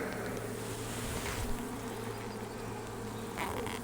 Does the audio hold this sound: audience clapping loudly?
no